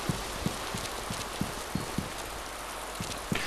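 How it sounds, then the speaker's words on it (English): Heavy rain pours down in the video game DayZ, a steady close hiss broken by soft, regular low thuds like footsteps. "Ooh, pissing down the rain now."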